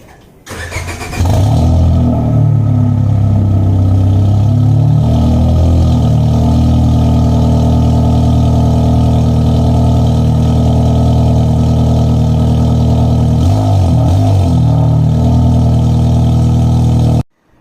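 A 2004 Honda Civic cold-starting: a brief crank catches, then the engine revs up, settles into a fast steady idle and blips again near the end before cutting off, loud and close with no talk.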